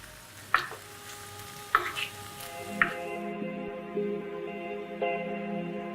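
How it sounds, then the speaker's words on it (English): A soft sizzle of beef chunks searing in a pan sits under a few sharp metallic clinks and scrapes, then a lingering ringing tone near the end, all close and moderately quiet. "I've been searing the meat for the last 10 minutes or so"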